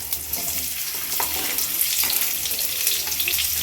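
Pieces of raw mango hit hot oil with popped mustard seeds for a sweet mango pachadi, producing a steady, close, crackling sizzle with light stirring throughout.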